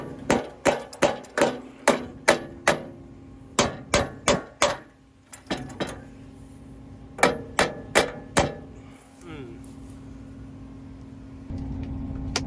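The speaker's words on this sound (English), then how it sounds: "After a bit of hammering and banging" A part hammered into position on a new combine: repeated loud metallic hammer blows in quick bursts of three to five strikes with short pauses between them, close by, and no talk.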